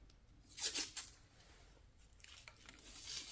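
Grafting tape being cut while wrapping a fruit-tree graft: a couple of quick, crisp snipping and tearing sounds close by, with a brief pause between them.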